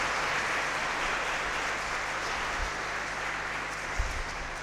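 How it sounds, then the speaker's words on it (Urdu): Church congregation gives sustained applause for the children during Sunday Mass, a steady dense wash of clapping from many hands filling the room for the whole stretch. "اپنی زوردار تالیوں میں، زوردار تالی جا کر ان کو مبارکباد پیش کریں"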